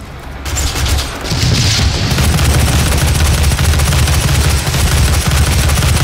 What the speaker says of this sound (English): Shoot 6 missiles as I'm like drifting to the ground.